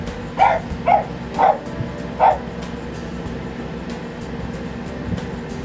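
A dog barks four times indoors, moderately loud and close, with uneven gaps between the barks, over a constant hum of air conditioning.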